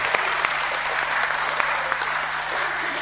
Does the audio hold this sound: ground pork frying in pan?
no